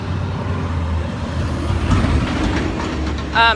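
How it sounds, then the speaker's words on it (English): Heavy garbage truck rumbling past outdoors, a continuous low engine drone with a brief squeal of brakes near the end. "here's the really loud garbage truck"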